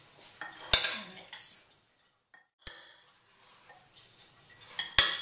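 Sweet potato salad being mixed in a bowl: a few sharp utensil clinks against the bowl with soft scraping in between, close and fairly quiet, separated by short pauses.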